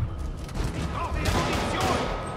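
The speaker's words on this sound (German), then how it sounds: "Ach, da schießen die auch weit." Gunfire crackles in bursts during combat in the video game Spider-Man Remastered, a dense fusillade of shots running continuously under a voice talking.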